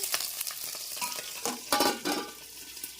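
Green chillies and onion fry in hot oil with damp curry leaves, a close crackling sizzle with bursts of spitting and stirring scrapes that swell and ease.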